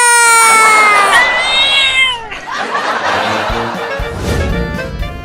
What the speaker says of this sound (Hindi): बिल्ली मुझे काट रही है